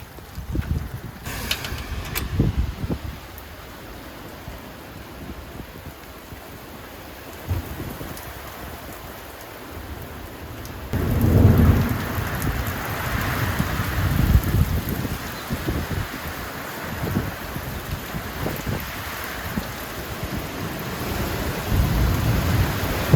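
Steady rain pours down on a garden in Perth, Western Australia, starting moderately and growing heavier about halfway through, with a dense wash of drops and low rumbles.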